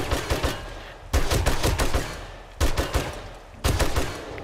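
Gunfire from the survival game 7 Days to Die, with three or four loud, sharp bursts of rapid shots separated by short pauses, each burst ringing out close and alone.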